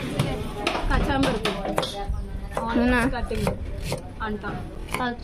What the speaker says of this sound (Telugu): Onions cutting.